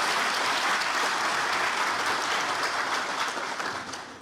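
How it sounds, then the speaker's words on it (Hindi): An audience at IIT Delhi applauds loudly, a dense, continuous wall of clapping that holds steady and then starts to fade slightly toward the end. "तो एक बार जोर से तालियां हो."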